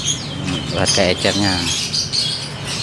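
Canaries, including adult hens, chirp and trill in a bird shop, with bright repeated calls in the background while someone speaks in Indonesian over them.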